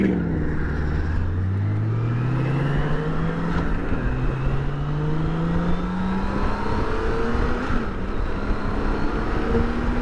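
A BMW K1600 motorcycle engine pulls hard through the gears on an open road, rising in pitch with each shift, loud and close over a steady rush of wind.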